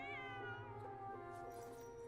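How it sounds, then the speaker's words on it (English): A cat meows in the video game Genshin Impact, one drawn-out, harmonically rich call that starts high and slides slightly lower, heard close and alone. "Kitty!"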